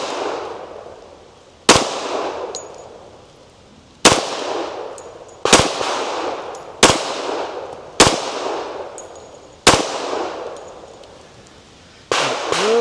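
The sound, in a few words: Tisas Raider 1911 pistol gunshots at a shooting range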